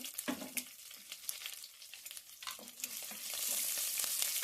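Curry leaves spit and crackle in hot oil under a partly covering lid, with sharp irregular pops near the start. The sound settles into a louder, continuous hiss toward the end.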